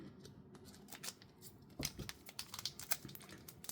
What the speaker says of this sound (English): Let's go with the scissors.